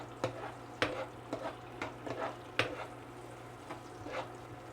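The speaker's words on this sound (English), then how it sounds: "Look at them, the bad boys sizzling." Onions fry in a pan with a soft steady sizzle, broken by a series of sharp scraping stirs and clicks from a utensil moving them around, fairly quiet overall.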